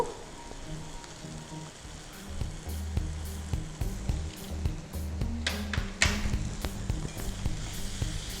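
Mushrooms and pasta sizzle and crackle steadily in a hot pan, with a few clatters and scrapes of a utensil toward the end and no talk.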